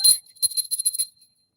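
A small hand bell rings in a quick tinkling run of about a dozen bright strikes, with a short burst first and then a steady shake, close and fairly loud, ending in silence; part of a children's storybook theatre movement game.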